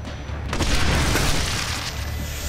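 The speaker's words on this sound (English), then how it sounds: "Flashbang out." A flashbang grenade detonates in the video game Splinter Cell Blacklist, a single dull boom that swells and lingers as a rumbling wash, with no speech.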